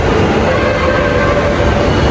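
A train rumbles loudly and continuously past at a busy metro station in Dhaka, a close, dense roar with a faint steady tone running through it.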